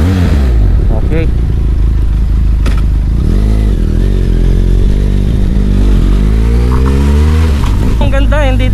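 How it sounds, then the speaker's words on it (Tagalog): A 2024 Benelli TRK 502X motorcycle on a test ride, its engine loud and close, droning and rising in pitch as it revs and accelerates, with wind rushing throughout. "Test drive natin tong for sale na TRK 502 2024 model."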